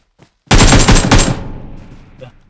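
A rapid burst of automatic gunfire in the mobile shooter BGMI (PUBG Mobile) fires as loud, close shots for about a second and then decays, with a faint voice just before it.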